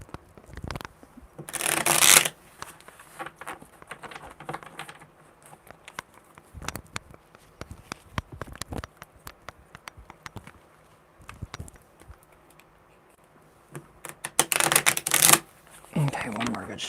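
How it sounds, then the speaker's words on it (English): Tarot cards being shuffled during a live reading, quick bursts of riffling and slapping card noise near the start and again toward the end, with softer handling ticks between and occasional talk. "Okay, one more good shuffle because that one sucked."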